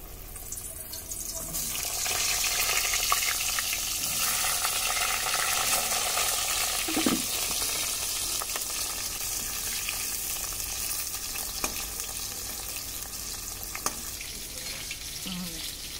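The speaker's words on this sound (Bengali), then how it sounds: "পটল কটা ভেজে নিচ্ছি" Pointed gourd (potol) pieces frying in oil for a rui fish curry, giving a loud, steady hissing sizzle that runs throughout, with a few faint clicks and scrapes of a utensil, close by.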